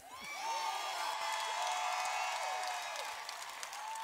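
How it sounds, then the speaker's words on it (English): An audience at a Chicago gospel music awards show applauds and cheers for a choir, with a dense, sustained burst of clapping and whoops that swells quickly and holds steady. "Everyone, please give a big applause to an awesome choir"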